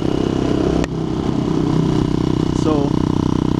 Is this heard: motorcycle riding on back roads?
yes